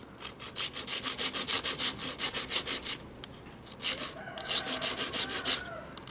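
A file rasping back and forth on the pin of an industrial sewing machine to sharpen its tip, loud, close rhythmic metal strokes in quick even runs with a short pause partway through.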